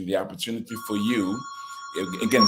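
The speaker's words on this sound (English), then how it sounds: "sorry about the phone ringing" Office desk telephone rings with a steady electronic tone under a man's speech, the ring carrying on through a pause in his talk and continuing as he resumes.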